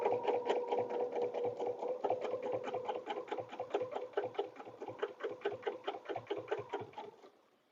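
A sewing machine runs steadily, stitching butterfly-wing paper piecing on a quilted dresser scarf, its rapid needle strokes pulsing in a fast even rhythm close by before stopping abruptly near the end.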